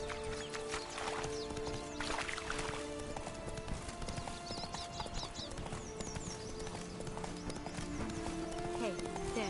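Roach the horse in The Witcher 3 gallops with steady rhythmic hoofbeats and a brief whinny, close and continuous under game music and a voice.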